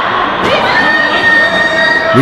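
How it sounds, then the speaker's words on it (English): Fans at a wrestling event cheer loudly throughout, a dense roar of crowd voices with shouts and whoops rising above it, close and sustained for the whole stretch. "Fans are cheering for him."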